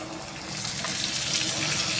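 A paste of ginger, garlic, onion and tomato frying in hot oil, a steady, dense crackling sizzle that swells slightly after the first half second and continues close and loud with no talking.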